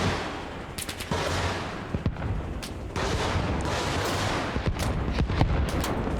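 Gunfire aimed at a helicopter in Arma Reforger, heard as scattered sharp shots and bursts over the loud steady roar of the helicopter, with no talking.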